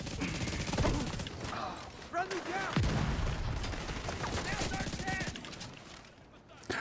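Explosions and rapid gunfire in a shooter video game, a dense barrage of cracks and thuds running throughout, with someone talking over the noise.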